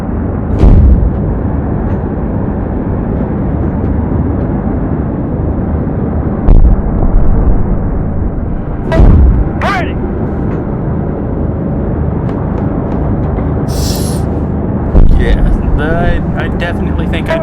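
In the video game Project Gunship, cannon shells land with heavy booming explosions, several loud blasts spaced through a constant rumble, while game voices talk over the action.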